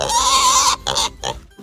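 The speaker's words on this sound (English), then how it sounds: "What sound does the pig make? Pipons. The pig growls." A pig grunts in a few short, close bursts, the first drawn out and the next two brief, with a toddler-style learning game as the setting.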